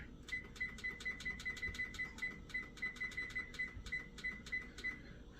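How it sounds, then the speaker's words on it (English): A kitchen timer being set while making a cranberry raspberry pretzel salad gives a steady run of quick, sharp clicks, each with a short high beep, about twenty in all over several seconds, fairly close with faint room noise beneath. "Let me set my timer."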